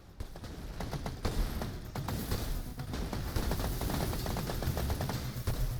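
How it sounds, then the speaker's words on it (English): Rapid gunfire from enemy guns in the tower-defense video game Cannon Keep, a dense, continuous rattle of overlapping shots and bursts that keeps up loudly for several seconds with no talk over it. "Oh, here come the guns."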